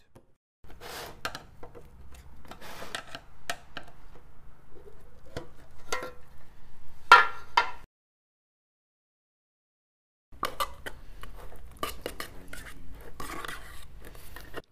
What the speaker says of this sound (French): Si vous utilisez trop de durcisseur, votre enduit est trop dur et peut se fendre.